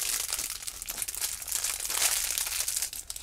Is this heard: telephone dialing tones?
no